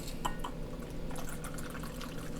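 A shaken amaretto sour cocktail with sour mix is poured from a shaker into a glass, a close, brief liquid splash and trickle with light clinks over a quiet background.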